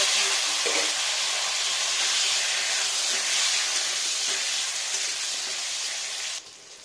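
Nigella seeds sizzle in hot oil in a pan while a Bengali hilsa fish curry is being made, a steady close hiss that runs throughout and drops off abruptly near the end.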